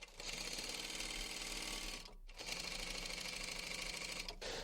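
A sewing machine runs in rapid steady bursts as it stitches fabric for a box cushion cover, with a brief pause midway before stitching resumes, loud and close, no talk.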